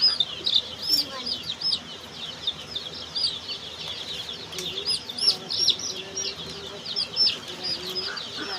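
Seven-day-old desi country chicks at a poultry farm give a continuous chorus of high, thin peeps, many overlapping calls, fairly close, with someone speaking at times.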